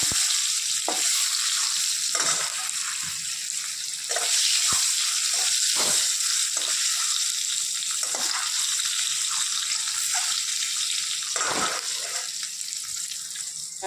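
Egg curry cooks in a karahi with a continuous close sizzle of frying, broken by occasional light clinks and stirring knocks against the pan.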